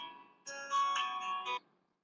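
A mobile phone ringtone sounds faintly for about a second, a short tonal melody of a few bright notes that stops abruptly, with no talking.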